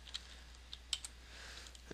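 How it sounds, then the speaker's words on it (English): Faint, sparse key clicks from a computer keyboard as text is typed, with irregular taps scattered over a low steady hum and no voices. "And I can just start typing some text."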